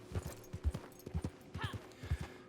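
In the video game Red Dead Redemption 2, a horse's hooves clip-clop in a soft, steady walking rhythm, fairly quiet, with a brief higher vocal-like sound midway.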